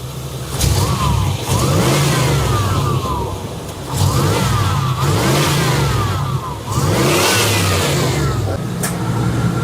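A 1988–95 Chevy OBS GM truck with throttle-body injection runs rough, its engine revving up and dropping back in three repeated surges, loud and close, with no talk.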